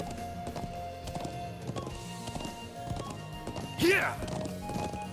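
Horse hooves clip-clop in the video game Trails of Cold Steel, a steady close rhythm of hoofbeats under game music, with a brief louder crash or whinny-like burst near the end.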